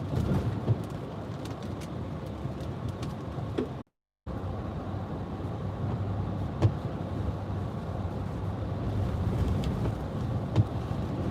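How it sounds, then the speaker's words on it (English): Hurricane Isaias wind rising at landfall near Wilmington, North Carolina: a steady, dense roar buffeting the microphone throughout, with a brief dropout partway and occasional gusty thumps. "The wind's starting to pick up a little bit."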